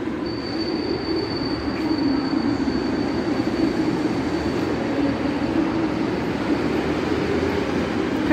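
A metro train runs through Sathya Sai Baba Hospital station in Bangalore, with a continuous rolling rumble and a thin high wheel squeal along the rails, steady and fairly loud throughout.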